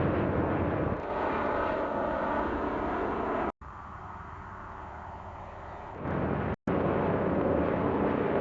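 Airliner engines roar at Hong Kong International Airport as a steady, loud jet drone. The sound cuts out in brief gaps and shifts in level partway through, with no talk.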